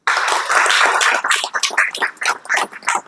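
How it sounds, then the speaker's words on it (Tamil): An audience at a monthly meeting claps, starting as a loud, dense round and thinning into scattered, uneven claps toward the end. "கைத்தட்டலாம்"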